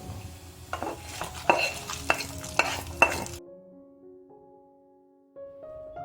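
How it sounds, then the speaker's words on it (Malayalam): Coconut pieces are sautéed for Kerala koottu curry: a spoon scrapes and stirs the pan several times over a soft sizzle, then the frying cuts off, leaving only quiet tones. "കാൽ കപ്പ് തേങ്ങ കൊത്ത് ചേർത്ത് വഴറ്റുക"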